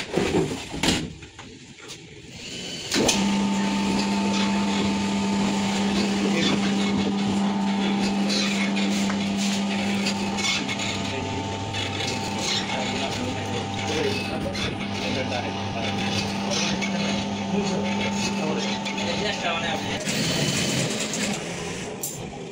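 A knitting machine producing a Muslim men's prayer hat (kufi) runs with a steady droning hum and tonal whine for most of the clip, starting abruptly after a few seconds and continuing evenly until near the end.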